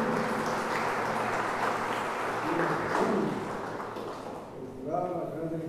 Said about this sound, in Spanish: Le brindamos un fuerte aplauso al doctor Luigi Ferrajoli.